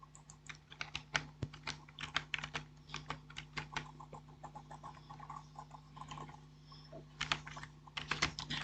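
Someone types a search query on a computer keyboard, with bursts of quick, light key clicks and short pauses, close but quiet.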